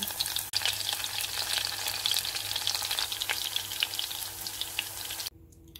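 Pork dry-roasts in a pan while being made into homemade pork floss, giving a continuous close crackling sizzle with occasional scrapes, cutting off abruptly near the end.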